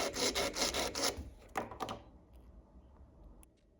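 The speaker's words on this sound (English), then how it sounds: "inserting 250 grit sandpaper, which is quite coarse, between the ring and then sanding" Sandpaper of 250 grit rubbed back and forth across the seam of a silver ring: quick, close, raspy strokes for about two seconds, then a couple of softer scrapes that die away to near silence.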